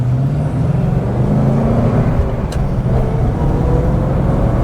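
A Rover 3500S P6 car driving at speed, its engine droning steadily with a low hum and road roar, loud and continuous, with a brief bump-like click midway.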